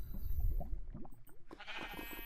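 Sheep bleat in a video game, several wavering calls one after another, moderately close and fairly quiet, with no talk over them.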